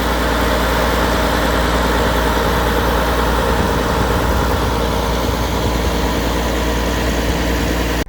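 A John Deere motor idles steadily on an irrigation scheme outside Emerald, Queensland, Australia, a loud, constant low rumble with a dense mechanical hum that runs unbroken throughout with no talking.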